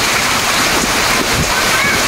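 Heavy rain pours outside a shop, and water splashes and rushes in a dense, continuous wash close by. It stays loud and unbroken throughout.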